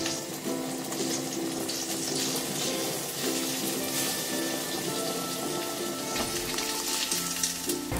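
A cooking fire burning beneath food topped with cheese, heard as a dense, continuous crackling hiss close by, steady throughout with no talk.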